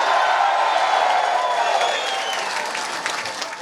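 Large crowd at an outdoor political rally for a Conservative leader in Surrey, applauding and cheering steadily, a dense roar of clapping with scattered whoops that slowly eases.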